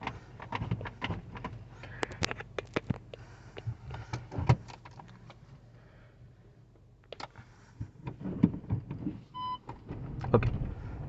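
Turbocharged 1.0-litre 3-cylinder engine of a Škoda Kushaq with a 6-speed manual starting up and pulling away, a steady low hum inside the cabin overlaid by scattered clicks and knocks from the interior.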